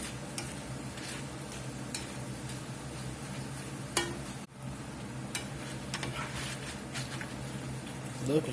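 Pieces being fried in hot grease in a pan while making chicken tortilla soup, a steady close sizzle with occasional ticks and pops, and a faint voice underneath.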